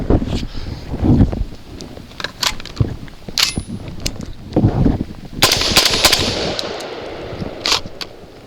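A Genesis Arms Gen 12 shotgun fires 2 3/4 inch, 1 ounce number 6 shot loads outdoors, sharp loud blasts in an uneven series with short pauses between shots and wind noise in the background.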